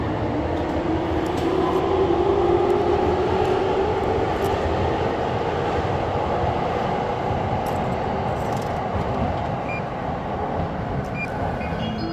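A train in Japan rumbling past or in motion, a steady loud low drone with a rising tonal whine, continuous throughout with no talk.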